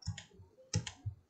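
A few close, quiet clicks from a computer mouse come in two short pairs, each click crisp and brief, with no talking.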